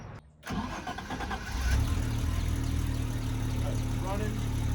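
A cheap used BMW motorcycle engine catches after a short gap and settles into a steady, loud idle, a continuous low rumbling drone heard close up for several seconds.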